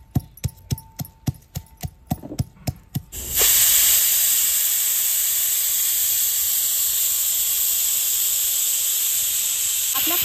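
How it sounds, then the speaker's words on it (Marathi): A pressure cooker on a kitchen stove gives several rapid rhythmic puffs, then breaks into a loud, steady, sustained whistle of hissing steam that lasts to the end. "आपल्या कुकरच्या पाहिजे तेवढे शिट्ट्या झालेले आहे"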